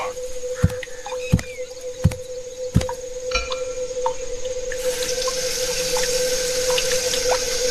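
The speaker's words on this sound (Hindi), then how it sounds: "उसने अपना चेहरा धोया" Water runs steadily from a tap with a few sharp splashes and drips early on, then the flow grows fuller and louder as a man washes his face; no voices.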